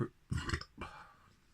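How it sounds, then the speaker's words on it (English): A single deep, throaty burp, close and loud, with a brief voiced rumble trailing off, from a beer drinker during a tasting of a Mikkeller x Oregon Fruit raspberry spontaneous ale. "lovely burp."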